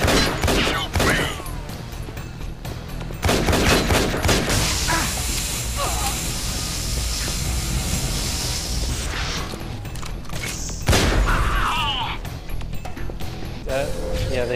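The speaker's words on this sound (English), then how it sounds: "Laser gun." Laser gun firing in the game Infernal, loud bursts and sustained buzzing blasts with crashes and mechanical noise, while people talk over it throughout.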